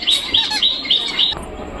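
Pigeons in a loft make about five quick, high chirping calls in a row, fairly close, before going quiet.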